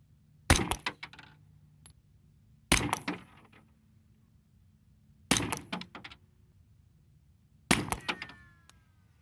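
Four suppressed 9mm subsonic shots loaded with Blue Dot powder, each a sharp crack followed by brief clattering, spaced about two and a half seconds apart in an otherwise quiet setting.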